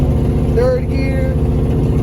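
Steady, loud engine drone from a CFR Performance car running an HGM Electronics Compushift controller, accelerating in third gear with a rich harmonic tone and a brief pitch wobble partway through.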